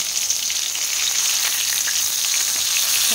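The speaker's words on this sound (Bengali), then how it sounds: "মাছ ভাজাটা হয়ে গেছে" Fish frying in hot oil gives a steady, close hiss and crackle of sizzling that holds constant throughout, with no one speaking.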